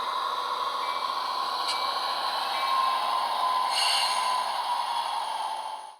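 A DCC-controlled model train locomotive running along its track into a block, giving a steady mechanical hum with a faint whine that holds for about six seconds before cutting off.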